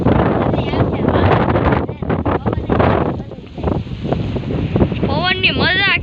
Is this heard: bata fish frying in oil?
no